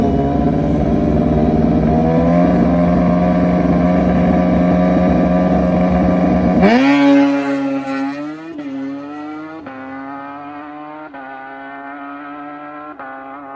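A Top Gas drag motorcycle, Brian Dale's bike ridden by Richard Gadsden, roars loud and close in a sustained high-revving pass; the note climbs, then cuts out abruptly, leaving a series of fading revs and short bursts at NHRA drag racing.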